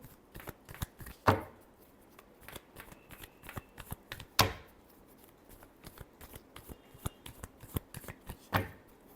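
Tarot cards are shuffled by hand in a quiet room, with a steady patter of card flicks broken by three louder riffle bursts spaced a few seconds apart, close and clear with no talking.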